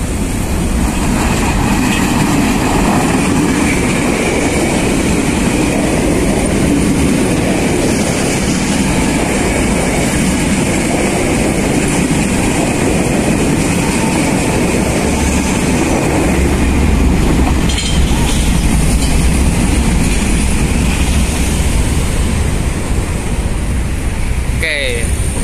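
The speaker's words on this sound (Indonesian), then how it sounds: "lewat kereta itu" A loud, continuous rumble of a train rolling past nearby at a railway level crossing, steady roaring noise with faint clattering throughout.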